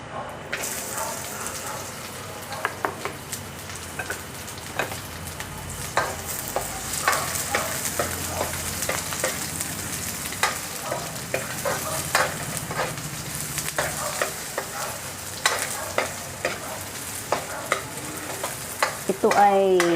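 Onions fry in a pan for lechon paksiw, a soft continuous sizzle with frequent spoon scrapes and taps from stirring close by, holding at moderate loudness for the whole stretch.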